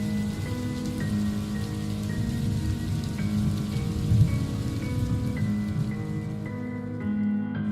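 Steady rain patters on a surface, continuous and fairly close, with a soft musical tone running underneath.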